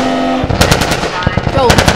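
Rapid machine gun fire in the video game The Last of Us, loud clattering bursts of shots over shouting voices in a tense firefight.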